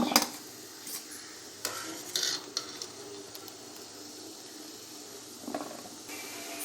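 A ladle scrapes and clinks against a cooking pot while lifting boiled cauliflower out, with a few sharp metallic knocks spread over a soft background hiss, fairly quiet and close, no talking.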